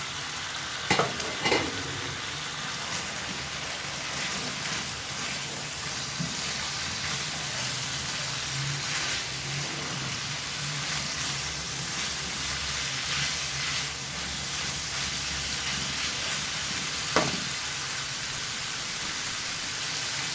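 Menudo-style ingredients fry in a pan while being stirred, a soft steady sizzle with occasional scraping and clinking of the utensil against the pan, fairly quiet and continuous with no talking.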